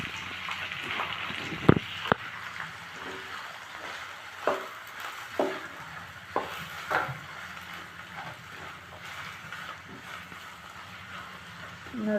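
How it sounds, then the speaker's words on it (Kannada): Onions frying in oil for a veg Maggi masala give a faint, steady crackle, with occasional sharp clinks and scrapes of a spoon against the pan, close up and without talk. "ನೋಡಿರಿ, ಈಗ ಆಯಿಲಲ್ಲಿ ಈರುಳ್ಳಿನ ಸ್ವಲ್ಪ ಫ್ರೈ ಮಾಡ್ಕೊಳೋಣ."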